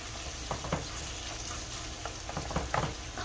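Filipino picadillo fries in a pan with a steady close sizzle, while a utensil stirs it with scattered scraping taps. No one speaks.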